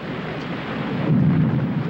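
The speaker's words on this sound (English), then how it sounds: "I'm not so used as you to storms on the Bay of Biscay." A thunderstorm with rain at sea in the Bay of Biscay: a steady broadband wash of rain and wind with a deep, swelling rumble of thunder building in the second half, loud and continuous, with no voices.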